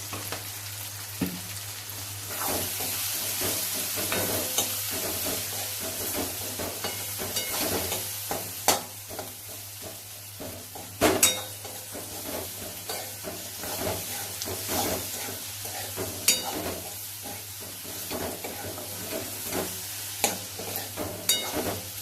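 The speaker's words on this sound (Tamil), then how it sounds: "வெங்காயம் தக்காளிலாம் நல்லா வதங்கிடுது" Onions and tomatoes sautéing in a hot pan for potato masala, a continuous loud sizzle and hiss with frequent stirring scrapes and clatters, close up and without speech.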